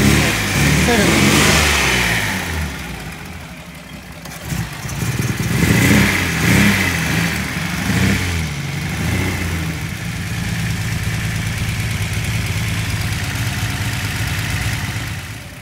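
A 1972 Datsun Cedric engine runs close by, revving at first and then settling into a steady idle while it warms up. It stays loud throughout, with no voice heard over it.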